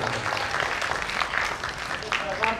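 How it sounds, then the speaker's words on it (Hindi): An audience at an Arts Council Karachi event applauds in a dense, continuous wash of clapping that runs under someone speaking over a sound system. "इनके लिए ज़बरदस्त तालियां होनी चाहिए"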